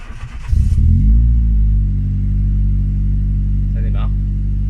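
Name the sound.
Renault Megane RS engine starting and idling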